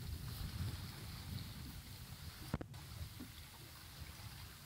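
Steady outdoor wind buffeting the microphone beside the water while fishing line is tied, a constant low rumble with one brief sharp tap in the middle.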